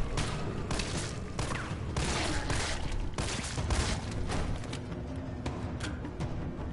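Rapid gunfire and explosive booms from the video game Resident Evil 3, a dense continuous barrage of shots through the whole stretch with no talk over it.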